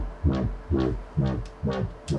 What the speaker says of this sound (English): this is where the wobbles are happening